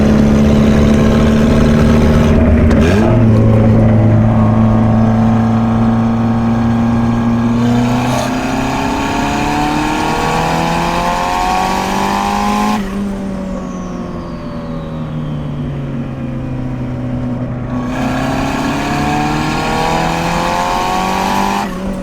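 A budget turbocharged Honda Civic with two-step launch control runs loud and steady near the microphone, its engine holding at high revs and then rising and falling in pitch, with no talking.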